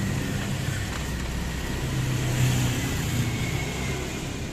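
Honda 70 motorcycle engine running steadily with a low, continuous rumble that swells slightly mid-way, close and fairly loud, with no talk over it.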